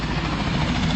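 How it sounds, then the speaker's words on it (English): Helicopters used to ferry hurricane relief supplies make a steady low engine and rotor drone, continuous and fairly loud with no talk over it. "There's helicopters."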